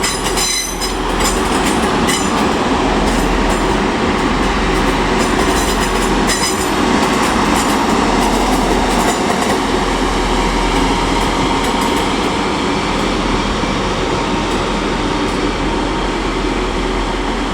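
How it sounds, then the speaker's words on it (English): Class 185 train 185118 on a service from Huddersfield at Leeds station: a loud, close rumble of the train moving through, with rhythmic wheel clatter and brief squeals early on, holding steady throughout without talk. "here is 185118 with a service from Huddersfield"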